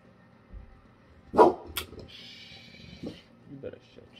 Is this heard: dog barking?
yes